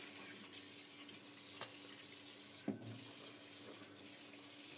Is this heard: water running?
yes